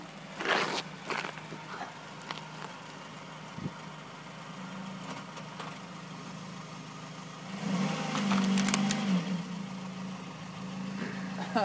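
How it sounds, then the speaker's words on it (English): A car engine idles in the background, a low steady rumble that swells a bit near the end, with faint scattered movement noises. "I hear a car running somewhere."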